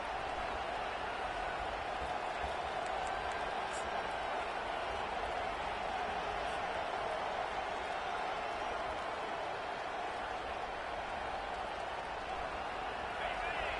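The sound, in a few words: stadium crowd noise in video game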